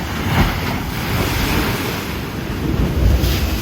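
Sea waves on the coast at Puerto Viejo, Costa Rica, loud and close, surging and whooshing in broad swells with strong wind buffeting the microphone and no voices.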